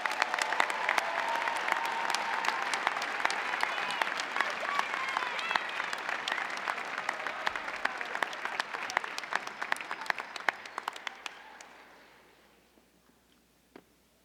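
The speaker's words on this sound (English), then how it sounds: "Why don't you join me in one big round of applause for these graduates?" Graduates at a university fall commencement ceremony receive a long, sustained round of applause from a large audience, steady and full for about ten seconds before thinning out and fading to a few scattered claps.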